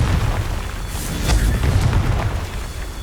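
A fire-blast spell going off in the Hogwarts Legacy video game, a loud booming explosion with a rumbling tail that swells mid-clip, with no talking over it.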